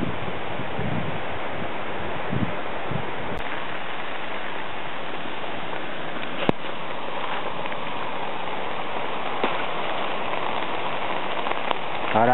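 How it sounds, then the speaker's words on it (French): Rain falls steadily during a solo December mountain hike in the Ardèche, a continuous close hiss of drops on the surroundings with faint wind, no voices. "Voilà, là il pleut là,"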